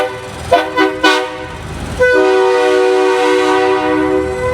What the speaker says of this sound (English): Yep, those are air horns.